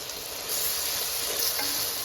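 Meal maker and tomato fry in a pan with a dense, even hiss of sizzling oil that swells slightly partway through, steady and close, with no speech.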